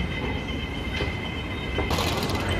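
A Hong Kong train rumbles into a station platform with a steady low roar, rising metallic squeal and hiss as it draws close; no voices.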